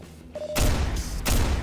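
A sci-fi acid gun in Garry's Mod fires and then bursts at the end, giving a brief faint tone followed by two thudding blasts about half a second apart.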